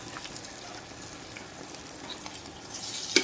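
Chopsuey vegetables in a pan give off a faint, steady sizzle and soft bubbling as they are stirred, with a sharper scrape or clink right at the end.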